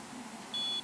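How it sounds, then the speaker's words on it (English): A single short, high-pitched electronic beep from a ThermaClear acne treatment device signalling it is done, sounding near the end, clear and close against faint background hiss. "And it beeps again to tell you that it's done."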